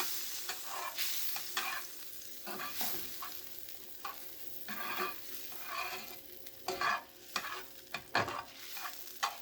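Butter melts in a pan on the stovetop for a green bean casserole, a low, even sizzle broken by several scraping stirs and faint utensil knocks, with no talking.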